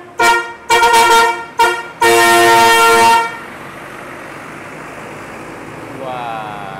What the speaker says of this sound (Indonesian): Wah, sebentar saja dikasih klakson ya.